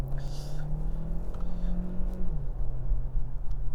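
2025 Hyundai Tucson 1.6 turbo hybrid with HTRAC all-wheel drive pulling hard in Sport mode, a steady droning engine note climbing slightly then dropping as it shifts, heard from inside the cabin under road rumble.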